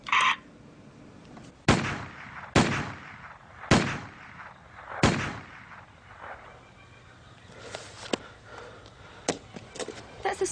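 Pistol shots from a stolen H&K handgun at a pistol range, four sharp loud reports spaced about a second apart, then fainter clicks and scattered softer bangs.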